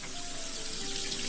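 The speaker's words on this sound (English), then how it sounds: "Running water." Water running steadily from a tap in a period-styled cabin room, a continuous hiss lasting the whole short moment, close and moderately loud with no talk.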